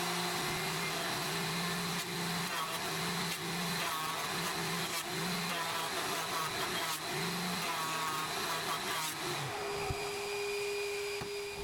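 A WoodStarter 6-inch benchtop jointer planes a crooked hardwood pallet 2x4, its motor whirring steadily and loudly the whole time with the cutterhead droning, then winding down near the end.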